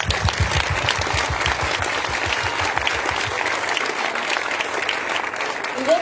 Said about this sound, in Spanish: Y por eso este aplauso sí debe ser para ustedes.